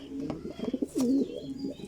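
Racing pigeons coo softly nearby in low, rolling burbles, one longer coo swelling in the middle, with faint background noise.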